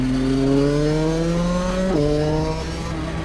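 A small, high-revving Rotax Evo shifter kart engine screams as it climbs in pitch, drops sharply with a gear shift, then keeps buzzing loudly.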